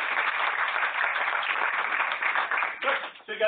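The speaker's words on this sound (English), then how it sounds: "So a round of applause for those of you who aren't REU students that help out" Applause from an audience at a lab research presentation event, dense steady clapping that fades at the end as a voice begins to speak.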